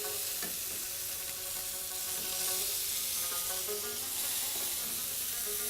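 Meat sizzles steadily in a hot frying pan while Pakistani-style food is cooked, with a continuous crackling hiss and occasional stirring or scraping. No one speaks.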